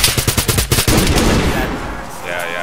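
Rapid gunfire in the DayZ video game: a fast burst of about eight sharp, loud shots, then a lingering echoing tail with faint rumble.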